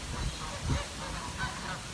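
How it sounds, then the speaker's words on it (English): Several ducks honk and quack at close range beside a path flooded by cyclone rain, giving a few short overlapping calls with a louder burst near the middle. "Leave the poor little birds in peace. Little duckies."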